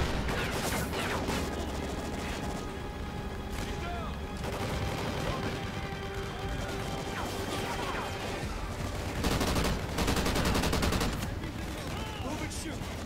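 Sustained gunfire in the shooter game Call of Duty: Ghosts, with dense overlapping bursts of automatic weapons and explosive cracks filling the whole stretch, loud and continuous, with voices mixed in.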